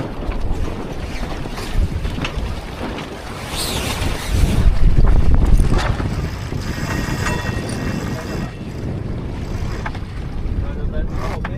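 A sailboat comes about in gusty wind, with heavy rushing wind buffeting the microphone, water sloshing along the hull and a swell of flapping and rattling midway, loud and close; voices call out briefly in places.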